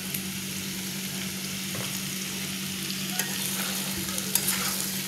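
Potatoes frying in oil for a dry fish (loitta shutki) curry with salt and turmeric, giving a steady, close sizzle with a few light stirring scrapes; no talking.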